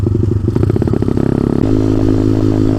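An Ice Bear Champion motorcycle engine running close by, first a fast rhythmic chugging idle, then a steadier, smoother drone after a slight shift in revs.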